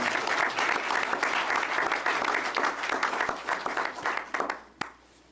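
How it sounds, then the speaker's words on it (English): Steady applause from a crowd at a city council meeting, dense and sustained, with scattered individual claps standing out as it begins to thin toward the end. "let's give another round of applause for this wonderful program"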